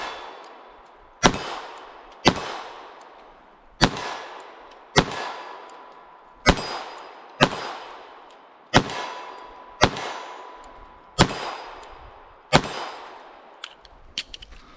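Walther P22 .22 rimfire pistol plinking steel targets, about a dozen sharp shots at an unhurried, fairly even pace, each followed by a ringing metallic clang that decays before the next.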